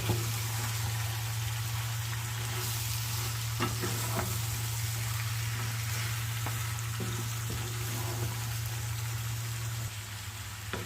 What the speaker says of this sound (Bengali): সবগুলা মাংস আমি এখানে দিলাম, তেলের সাথে ভালো করে মিক্স করে নিয়ে